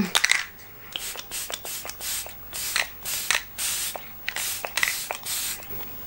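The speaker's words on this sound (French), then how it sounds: "Je vais mettre un coup de spray, encore un ELF" Short, breathy spritzes of e.l.f. makeup setting spray come in a quick irregular series, close and crisp, a dozen or so hissing bursts with brief gaps and no voice.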